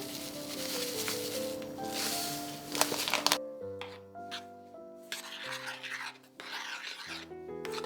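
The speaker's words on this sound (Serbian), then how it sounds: "I ako imate jedan limon, lijepo je da osvežite ovaj fil sa malo naribane korice" Rasping strokes of lemon peel grated for a coconut cake filling, repeated close scrapes heard under background music with sustained tones.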